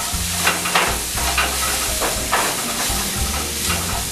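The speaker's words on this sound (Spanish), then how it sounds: "Movemos tantito nuestros pimientos." Peppers frying in lemon butter in a pan being stirred, giving a loud, steady sizzle with repeated scraping strokes of the spoon, close and continuous, with no speech.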